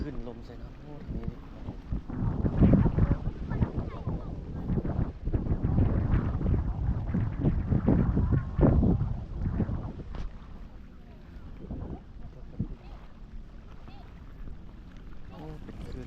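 Evening wind gusts over the Mekong River along the Vientiane riverbank, buffeting the microphone in uneven rushes that rise and fall, with a person talking over the blustery noise.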